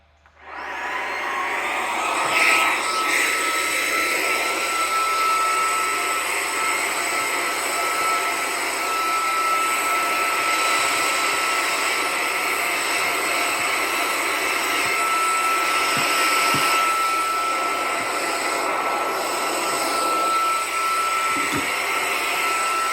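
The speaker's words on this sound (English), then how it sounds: "going to go with a vacuum cleaner here." A vacuum cleaner running continuously after drilling and screwing work, a loud steady whine with a constant tonal hum that starts abruptly and holds for the whole stretch, with a few faint knocks under it.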